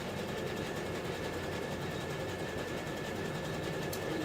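A sewing machine runs continuously while stitching a zigzag secondary seam to reinforce a garment's shoulder seam, a steady close-up mechanical whir with no pauses.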